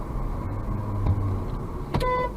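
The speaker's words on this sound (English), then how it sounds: "he even honks back at us like he's so innocent" A car horn on a road gives a short, sharp honk near the end, sounding over steady traffic and engine noise.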